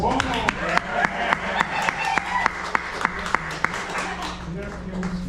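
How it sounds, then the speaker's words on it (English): A live audience claps for performer John Voigt after his introduction, a lively burst of applause with a few sharp, distinct hand claps standing out, voices mixed in. "Let's give a big round of applause to John Voigt"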